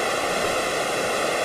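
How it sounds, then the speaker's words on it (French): The falling jet of the Gavarnie waterfall roars as a dense, unbroken wash of spray and rushing water, loud and close. "on est arrosé sous le jet de cette cascade"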